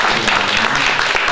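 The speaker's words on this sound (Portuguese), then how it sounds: "Palmas para Cecília Meirelles" Dense, steady audience applause at a poetry event fills the space, many hands clapping at once without any break.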